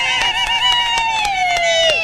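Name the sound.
crowd applause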